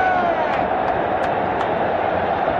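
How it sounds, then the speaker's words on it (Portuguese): Corinthians fans cheering in the stadium at the 1982 Campeonato Paulista final against São Paulo: a steady, dense crowd roar that fills the space, with a few faint whistles poking through. "Olha a festa na torcida corintiana."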